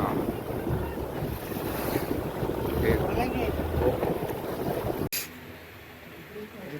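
Boats on the sea off the Konkan coast, with a steady broad rush of wind, engine and waves that drops abruptly near the end to a quieter background.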